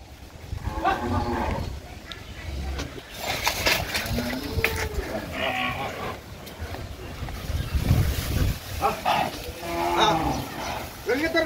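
A native Bangladeshi bull lows repeatedly, loud and close, while jumping around after being led outside, its calls rising and falling over several seconds with wind noise and brief human voices nearby.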